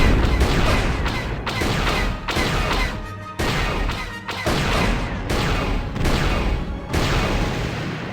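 Blaster fire in Knights of the Old Republic, a loud, dense run of rapid shots and crashing impacts with only brief gaps between bursts, filling the whole stretch.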